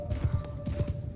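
Horse hooves clip-clop in the video game Mount & Blade II: Bannerlord, as cavalry rides into a frontal clash, several dull thuds in a loose gallop rhythm over a steady in-game hum.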